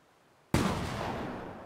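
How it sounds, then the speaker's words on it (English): A Desert Eagle pistol fires once in a video game: a sudden loud, sharp shot whose roar and reverb hang on and decay slowly, following a quiet stretch. "I'm gonna hit this deagle shot just for you little boys"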